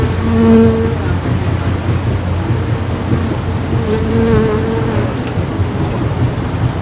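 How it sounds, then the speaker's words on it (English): A swarm of bees drones loudly inside a house they have taken over and built combs in. The buzzing is close and continuous, a steady dense hum with occasional faint voices beneath it. "Give me an idea how many bees are in there."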